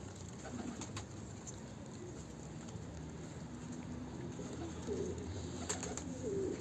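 Pigeons, a breeding pair with their growing squabs, coo low and faint from nearby against a soft, steady background hiss.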